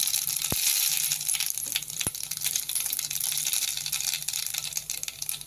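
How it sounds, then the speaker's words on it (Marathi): Mustard seeds splutter in hot oil in a pan on a gas stove, a close, continuous crackling sizzle with a couple of sharper pops standing out. "आपण गॅस चालू केला पॅन ठेवला आणि मोरी टाकली आता तेलामध्ये"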